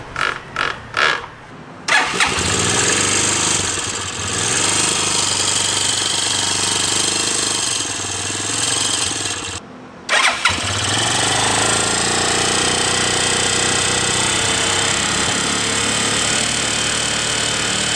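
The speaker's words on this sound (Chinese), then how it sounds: "然后那个叮叮叮叮叮的声音就是气门的那个" A Yunbao 200 motorcycle's OHV single-cylinder engine, worn from a seized cylinder, idling loudly and steadily with a rapid mechanical ticking from the valves, cutting out and restarting twice.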